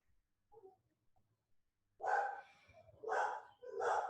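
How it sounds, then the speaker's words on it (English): A dog barks three times in quick succession, fairly close and loud, after a few faint stray noises in an otherwise quiet room. "My dog's going crazy."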